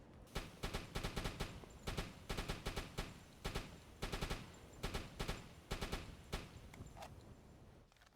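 Repeated bursts of gunfire from a deck gun on the submarine game U-Boat, aimed at an enemy vessel, with rapid clusters of sharp shots in a steady rhythm, loud and close, with no talk.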